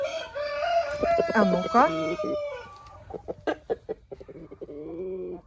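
A rooster let in among his hens in a poultry yard gives a crow near the start, followed by a string of short, sharp clucks, with someone speaking briefly in between.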